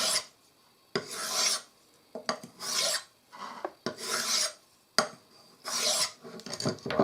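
A hunting knife blade pushed edge-first along a fine-grit sharpener in five separate rasping strokes, each a dry scraping burst about a second long with short pauses between, close and alone.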